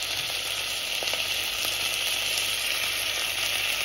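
Chopped tomatoes fry with cooked onions and ginger garlic paste for Goan prawn pulao, giving a dense steady sizzle that stays loud and even throughout, with a couple of faint utensil taps and no talking.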